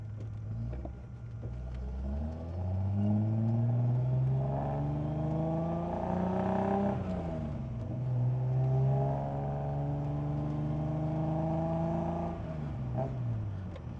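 A Datsun 240Z's engine drives continuously up close, its pitch climbing and dropping through several gear changes and revs, with a steady road rumble underneath.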